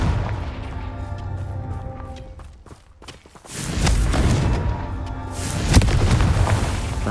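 In the Hogwarts Legacy video game, the Confringo blasting spell explodes as heavy, roaring booms that burst in after a quieter, sparse stretch. A second loud blast follows about two seconds later, each trailing into a rumbling wash.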